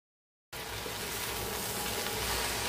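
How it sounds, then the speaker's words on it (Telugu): Drumstick leaves fry in a pan on high flame. After a moment of silence, a steady, dense sizzle starts abruptly and holds close and even to the end. "ఇక్కడ హై ఫ్లేమ్ లో పెట్టేసుకొని 2 మినిట్స్ వరకు కూడా దీన్ని బాగా వేయించుకోవాలి"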